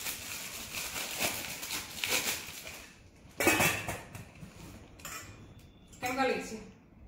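Ceramic serving bowls from a newly bought three-piece set clatter and clink as they are unpacked and handled, with several bursts of knocks and rattles separated by short pauses, close and moderately loud.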